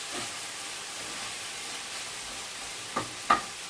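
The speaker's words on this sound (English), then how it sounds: "just simmering down there, turn that heat down a little tiny bit so that we don't catch that meat" Meat simmering in a pan on lowered heat, a soft, faint continuous sizzle and hiss with two brief louder clicks near the end, no talk.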